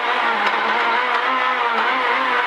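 A Renault Clio R3 rally car engine roars close and loud on a rally stage, holding a strained, buzzing note with slight pitch shifts as it brakes and pulls again.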